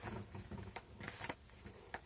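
A deck of cards is shuffled, with quick soft riffles and snapping flutters in short bursts, close but quiet.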